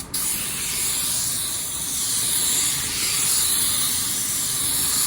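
A spray gun lays down a very light drop coat of clear, giving a steady, continuous airy hiss close by that runs the full length without pause and without any talk.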